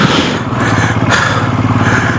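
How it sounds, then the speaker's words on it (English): A Royal Enfield Scram 440 motorcycle rides off-road, its single-cylinder engine a loud, close, steady throb with a rapid pulsing beat that runs without a break. "taking your bike on an off-road"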